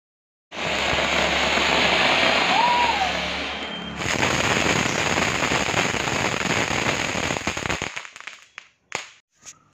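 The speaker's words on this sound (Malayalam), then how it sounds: "ഞങ്ങൾ നേരത്തെ തന്നെ പടക്കം പൊട്ടിച്ചു" Firecrackers go off at the Irinjalakuda Pindi Perunnal church festival, a loud, dense rolling barrage of rapid cracks that thins near the end into a few separate sharp bangs.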